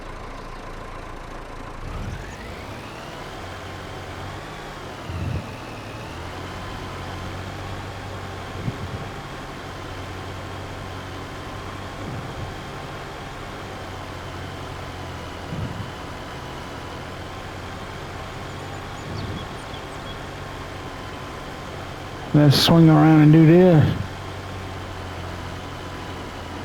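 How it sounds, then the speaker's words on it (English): Steady idle and low running drone of a 92-horsepower modified Massey Ferguson tractor engine, close and continuous, with a brief louder revving burst near the end; one short spoken line sits over the engine. "This is a good tractor, y'all. It's a modded Massey, and I love it."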